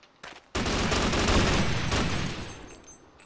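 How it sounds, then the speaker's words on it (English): Sniper gunfire in the Half-Life co-op mod Sven Co-op: a short sharp report, then a loud, sustained blast of noise that slowly fades, heard alone without talk. "I'm being shot by a sniper!"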